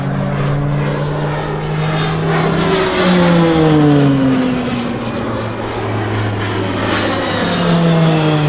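RAAF Roulettes propeller aircraft flying an aerobatic display at RAAF Base Point Cook, a loud continuous engine drone with pitch sweeping down and back up as planes pass close overhead.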